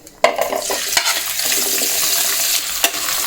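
Onion, tomato, green chili, curry leaves and spices are tipped into hot oil with a sudden loud burst of sizzling. A dense, steady frying hiss follows, broken by a few spatula knocks and stirs close by, with no voices.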